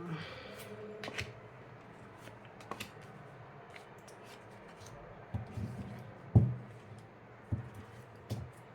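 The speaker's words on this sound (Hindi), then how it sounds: "पहले इस पर कार्ड शफल कर लेती हूँ ना।" Tarot cards are shuffled by hand in a quiet room, making soft, close, irregular riffling and slapping sounds with a few sharper taps.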